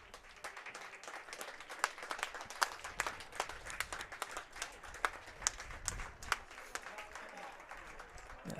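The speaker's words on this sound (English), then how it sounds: "Yes, he'll get applauded" Crowd applauding at a college baseball championship game as an injured player holding his shoulder walks off the field, steady scattered clapping at moderate distance with a faint voice underneath.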